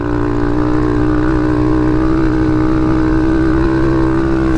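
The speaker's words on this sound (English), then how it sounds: "This is full throttle, fourth gear." A TaoTao DB17 dirt bike engine held at full throttle in fourth gear, a loud, steady, high-revving drone that stays flat and continuous throughout with no talking.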